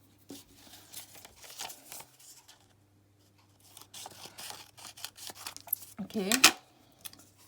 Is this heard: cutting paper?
yes